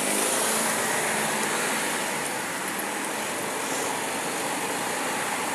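A car passes close beside a cyclist on a road, its engine and tyre noise a steady broad roar mixed with wind rush, holding loud and even throughout.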